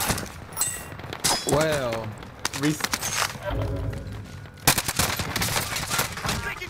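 Gunfire in the Modern Warfare video game, with short bursts of shots breaking in at the start and again later, mostly under a man's excited, loud talking.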